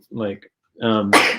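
A single sharp sneeze bursts out right after voiced talk, close and loud, with hissy breath at its end.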